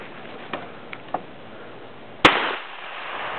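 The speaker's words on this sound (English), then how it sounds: "Oh, shoot a pumpkin." A single sharp, loud gunshot fired at a pumpkin outdoors, preceded by a few faint clicks and followed by a brief echoing decay.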